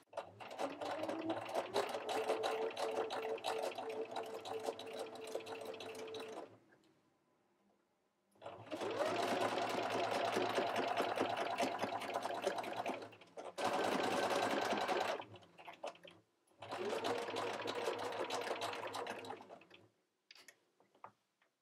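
Sewing machine stitching microsuede fabric for a doll jacket: four runs of rapid, steady mechanical whirring, the first and second long, the last two shorter, separated by brief near-silent pauses, close and clear.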